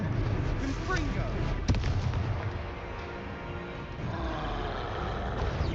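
A Confringo fire spell in Hogwarts Legacy goes off as a booming blast with a sharp crack partway through, followed by a lingering rumbling roar at moderate loudness, with voice activity around it.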